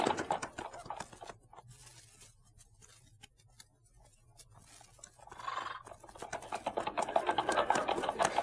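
Horse hooves for a radio western drama, a steady clip-clop rhythm of riding mounts heard fairly near, set against an outdoor background with no talk over it.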